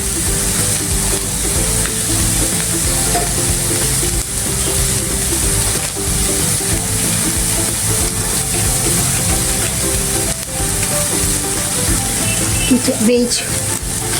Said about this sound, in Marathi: कोथिंबीर थोडीशी टाकते परतायला